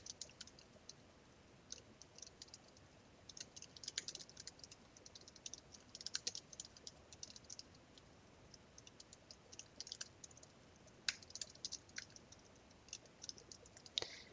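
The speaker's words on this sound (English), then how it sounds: "now we'll type these in." Typing on a computer keyboard produces a quiet, irregular run of soft key clicks and taps, with occasional brief pauses and no talking.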